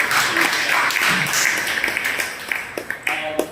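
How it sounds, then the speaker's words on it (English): An audience at a live storytelling event applauds in a continuous wash of clapping throughout, moderately loud, with some voices mixed in. "Let's give a round of applause for that person."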